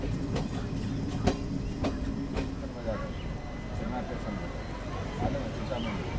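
The Puri-Patna Express (18405) rolls along the rails near Mokama station in Bihar, a steady rumble with repeated clickety-clack wheel beats while someone talks over the ride.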